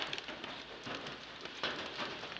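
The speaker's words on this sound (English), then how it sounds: "how awesome, it's raining" Autumn rain falls outside in a steady, dense patter on surfaces, near and fairly loud, continuous with slight surges and no voices.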